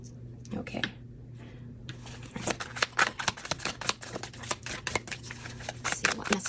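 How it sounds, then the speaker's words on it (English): Tarot cards being shuffled by hand, a quiet pause followed by a run of crisp riffling snaps and soft slaps that grow busier and louder toward the end, close up. "Let me keep shuffling."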